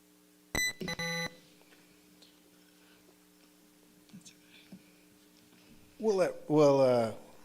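An electronic buzzer blares close by, a short blip then a longer buzz, followed by quiet and then a person speaking.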